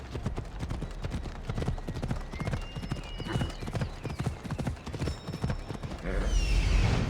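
Horse hooves clip-clop steadily and close by in Assassin's Creed Odyssey's Fate of Atlantis expansion, a continuous trotting rhythm carrying on alone with faint game ambience beneath.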